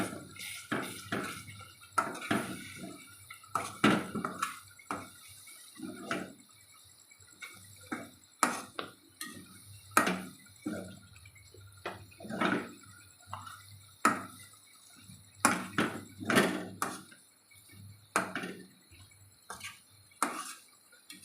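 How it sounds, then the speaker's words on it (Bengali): Ghee being stirred in a pan while making palm (tal) sweet produces repeated close scraping and clinking strokes in an uneven rhythm, separated by short quiet gaps. "খুব ভালো করে নাড়তে হবে যেন ধরে না যায়।"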